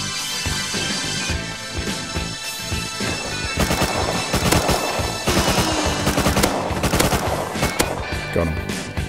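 MP5 submachine gun fire in the survival game Rust rattles in loud, rapid bursts, with sharp repeated shots and heavier blasts layered over a dense, continuous battle din.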